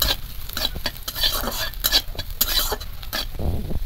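Chopped ginger goes into a hot pan for a Bengali chilli chop snack and is stirred around, with repeated utensil scrapes and clinks over a steady sizzle throughout.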